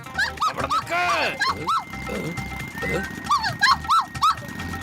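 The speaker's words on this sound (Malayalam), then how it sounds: "ഈ ഡോഗ് എന്തിനാ എന്റെ പുറകെ ഓടി വരുന്നേ?" A cartoon dog barks and yips in quick repeated bursts during a chase scene, loud and close, mixed with whimpering sounds, while a cartoon character speaks over it.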